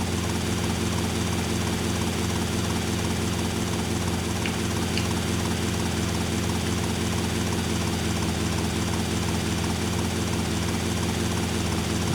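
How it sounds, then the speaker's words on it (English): Helicopter in the game GTA Vice City Definitive Edition, smoking from damage, gives a steady loud rotor and engine drone that runs unbroken throughout, with no talk over it. "See, this helicopter is smoking, so I've already beat him up a little bit"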